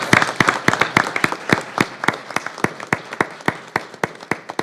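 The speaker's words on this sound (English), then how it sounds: "Let's give our students a round of applause." A small audience at a school board meeting claps for students, a sparse, fairly close patter of individual hand claps that stays steady and unbroken.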